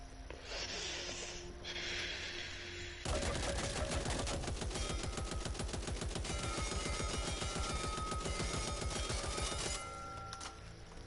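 Rapid automatic gunfire from a weapon in the shooter game Back 4 Blood, a dense sustained burst of shots running for several seconds, loud and close, with quieter game ambience before and after.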